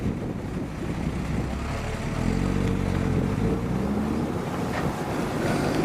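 An Alfa Romeo rally car in wet weather at the Heart of the Hunter Rally 2019, an engine drone rising as it approaches, heard mid-distance against wind noise.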